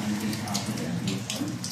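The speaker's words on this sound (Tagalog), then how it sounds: "ayan malakas ang ulan" Heavy rain pours steadily close by during a night patrol, a broad constant wash of water with scattered louder patters, while faint voices murmur beneath.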